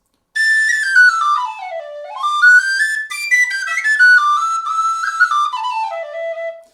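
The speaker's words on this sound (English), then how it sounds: "Which is an iconic penny whistle" An Optima prototype head penny whistle playing a bright, clear melody of sliding and stepping notes, solo and close, with no talking.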